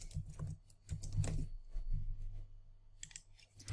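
Computer keyboard typing comes in short irregular clusters of soft key clicks with pauses between, quiet and close, with no voice over it.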